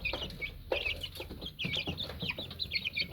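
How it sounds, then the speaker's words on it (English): Light Columbian Brahma chicks on a Karachi poultry farm, a busy flock peeping and clucking continuously nearby with overlapping calls and no talk. "See, healthy, active and happy chicks."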